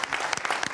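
Applause rings out at a Canarian parranda birthday gathering, a short burst of distinct, close claps in quick irregular succession, with no talk over it.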